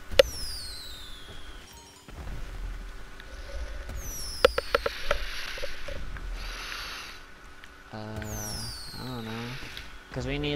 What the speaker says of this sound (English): We have fireworks going the whole time, feller.